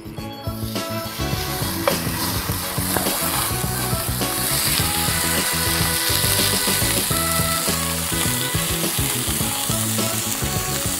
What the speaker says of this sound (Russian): Так, стейки промазали, теперь пойдем отнесем их в сковородку.